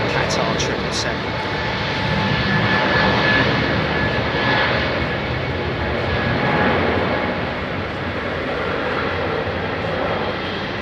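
A seven-year-old Qatar Airways Boeing 777 rolls for takeoff at London Heathrow, a loud sustained jet engine roar with rising whine that surges and holds, while someone talks over it.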